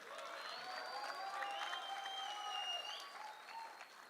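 Audience applause fills the hall at a motivational talk about cricket and helping students, a steady dense patter of many hands clapping throughout, moderately loud with faint crowd murmur beneath.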